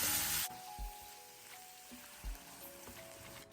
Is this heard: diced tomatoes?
yes